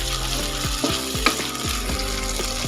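Chopped tomatoes fry in hot oil in a pan for Dhaba-style egg tadka, sizzling steadily while a spatula scrapes and stirs in a regular rhythm, close and loud with no talking.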